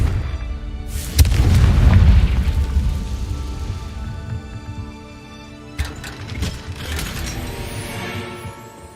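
A Confringo fire spell in Hogwarts Legacy erupts as a loud, close boom with a long rumbling roar that fades, followed by a second sharper blast and crackling burst a few seconds later.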